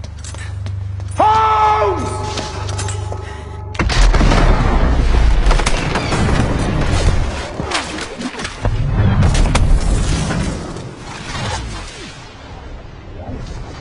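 Film soundtrack of a factory explosion in a Sherlock Holmes film: a sudden heavy boom gives way to sustained roaring blasts and debris rumble, loud and dense, with some brief voices beneath.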